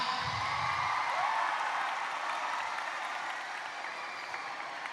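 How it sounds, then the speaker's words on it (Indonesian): Audience in a hall applauding the Sharia faculty during a welcome address, a sustained, moderately distant patter of clapping that gradually thins out. "Tepuk tangan untuk Fakultas Syariah."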